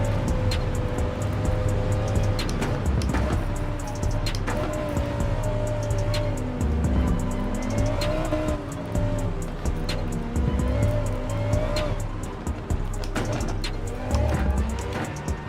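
Audi race car in Gran Turismo 7 roars steadily and loudly throughout, its engine note rising and falling through gear changes with intermittent tire squeal and skidding.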